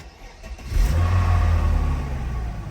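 A Mercedes W124 engine fires up close by after a brief crank, its low rumble swelling quickly and then holding steady as it settles into idle.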